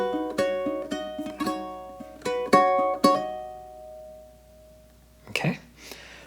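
A ukulele plucks a bar of the opera aria Nessun Dorma, a series of bright, ringing notes and strummed chords in a slow melodic rhythm, ending in a long fading sustain before a brief breathy voice sound.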